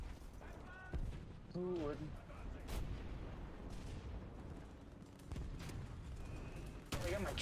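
Tank cannons fire in the War Thunder video game, producing several heavy booms spread across the stretch with rumbling battle noise between them, while someone talks over it.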